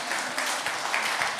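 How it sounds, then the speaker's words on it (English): A church congregation at an evening service in Mangere claps together, a brief, dense round of applause at moderate volume with no voices over it. "Give another clap offering."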